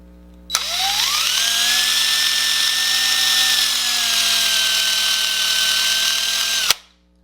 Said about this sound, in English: You just keep drilling. Little bits at a time. A little bit of pressure.